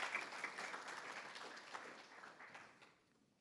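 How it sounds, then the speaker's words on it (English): A dinner audience at a society event bursts into a round of applause that is dense at first and gradually thins and fades over a few seconds. "Please give a round of applause to all of you that have made such experiences happen."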